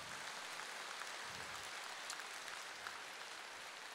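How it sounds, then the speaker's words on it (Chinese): Audience applause at a Buddhist teaching gathering in Kuala Lumpur, Malaysia: a steady wash of clapping from a crowd, held at an even level throughout with a few sharper claps standing out. "鼓掌"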